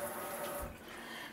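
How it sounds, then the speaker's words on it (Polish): Faint running water trickles steadily from a tap as bandages are soaked for Halloween mummified sausages in a home kitchen, a soft continuous wash with a slight change midway. "Pomoczymy wodą bandaże."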